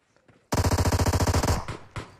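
Rapid automatic gunfire in a battle royale video game, a dense burst of about twenty evenly spaced shots lasting roughly a second, loud and close, followed by a couple of softer trailing hits.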